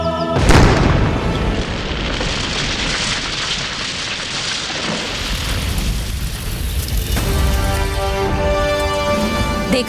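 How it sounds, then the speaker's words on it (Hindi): A magic golden pearl bursts in a sudden booming explosion effect, followed by a long crackling, rushing roar like falling debris that fades into a shimmering ring. "इस मोती से विस्फोट करके आप उन पर आक्रमण कर सकते हैं।"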